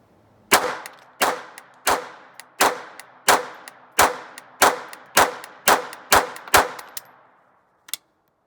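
An Intratec Tec-22 .22 LR pistol fires about a dozen sharp, ringing shots in a quick, fairly even rhythm, loud and close, followed by one final isolated shot after a short pause.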